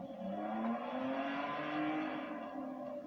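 A high-revving Lamborghini Diablo SV engine in Need for Speed: Most Wanted roars steadily, its pitch climbing gradually through the gears, close and loud, with no voices.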